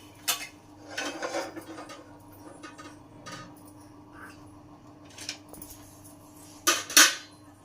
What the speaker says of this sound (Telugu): స్టవ్ వెలిగించుకొని ప్యాన్ పెట్టుకున్నాము